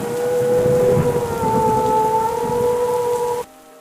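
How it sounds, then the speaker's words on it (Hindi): Steady rain pours down with a rumbling, thunder-like roar and a sustained tonal whine on top, loud and continuous before cutting off abruptly near the end. "आज तो बारिश हो रही है"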